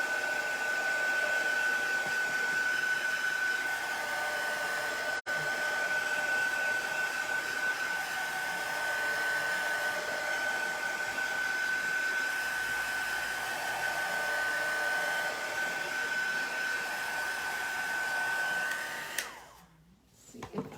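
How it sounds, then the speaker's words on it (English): A hair dryer blows steadily and loudly for about twenty seconds with a constant whining tone, then clicks off near the end. "we're just going to hit this with the dryer again"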